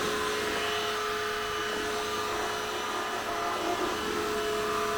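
A Swan Dirt Master Cross X Over vacuum cleaner runs steadily with a constant loud whirring drone and a faint tonal whine, close by and alone without talking.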